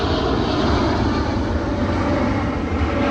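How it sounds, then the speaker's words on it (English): An airplane landing near an airport roars steadily and loudly for the whole stretch, a dense, even engine rumble with no voices. "Watching planes land."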